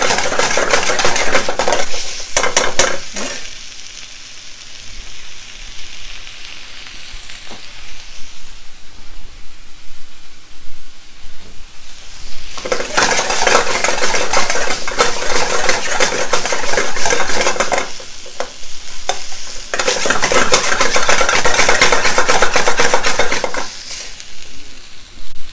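Spices for chicken Rogan Josh sizzle and fry in a pan over gas heat, loud and close, with a utensil scraping and stirring in several bursts separated by quieter stretches of steady frying.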